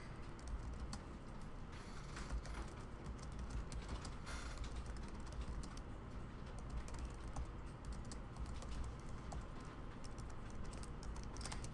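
Steady, fast typing on a computer keyboard while writing code for a nested loop, with dense clicking keystrokes continuing throughout, close and alone.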